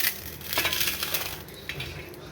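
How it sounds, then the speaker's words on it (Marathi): Fried sabudana papdi, a crisp sago wafer, is crushed by hand close up, giving a dense crackling and crumbling that is loudest early and then thins into scattered crisp snaps. "अगदी असा चुरा तोंडात टाकली तर विरघळती अशी ही पापडी"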